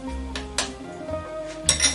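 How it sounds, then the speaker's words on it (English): A spoon presses butter and potatoes down into a dish, with a few close metallic clinks and scrapes of spoon on dish over a quiet background. "you can use a spoon, it's probably easier to get this pressed down"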